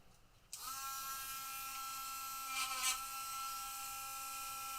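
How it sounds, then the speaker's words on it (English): A small rotary tool fitted with a Dremel 443 steel brush whirs up to a steady high-pitched whine while smoothing a sanded edge, with a brief louder rasp as the brush bites partway through, close and alone. "steel brush, and I'm just going to smooth the edge"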